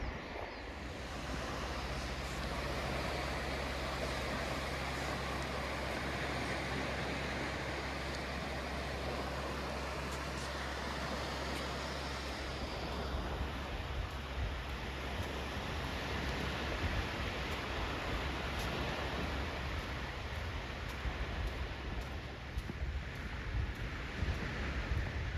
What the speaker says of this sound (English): so maybe about a mile of beach walking. Tide's well out, just a little bit breezy and cool, but not bad.